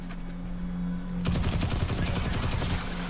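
Rapid rifle fire in Destiny 2 bursts in after a low hum, fast repeated shots rattling on continuously and loudly for the rest of the clip.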